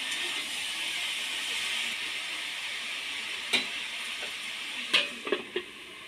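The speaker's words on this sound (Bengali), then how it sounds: "এবার ওর মধ্যে পরিমাণ মতো হলুদ গুঁড়ো, স্বাদ মতো নুন দিয়ে নেড়ে নেব" Vegetables seasoned with turmeric and salt are stirred in a pan over a continuous close sizzle, and a few sharp scrapes and clanks from the spoon land near the end.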